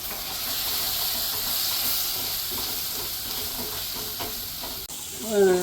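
Kashmiri chili powder gets stirred into a prawn roast in a hot oiled pan, a steady close sizzle and hiss with soft scraping of the spoon throughout.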